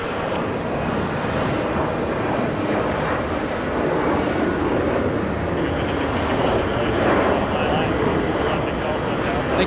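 A JetBlue airliner departing John F. Kennedy International, a steady rushing jet roar with gentle surges, fairly loud and continuous, mixed with some wind buffeting.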